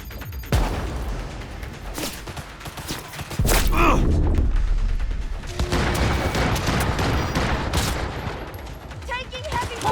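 Sustained gunfire from the video game Cyberpunk 2077 Phantom Liberty, dense bursts of rapid shots with booming impacts that grow louder midway, continuous and loud throughout.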